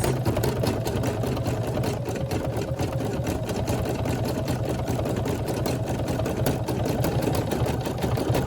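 A Brother SE1900 embroidery machine stitching an applique onto a dog's bag, a steady, fast mechanical whirring hum with rapid needle ticks, close and continuous throughout with no talking.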